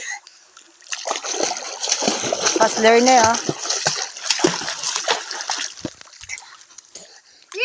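Someone swimming at Tinugdan splashes and churns the water in close, uneven bursts that build in the middle, while voices talk over the sloshing.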